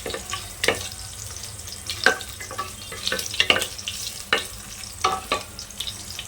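Pulao spices fry in a pan over medium heat with a steady low sizzle and irregular scraping clinks from stirring, close and moderately loud, with no voices.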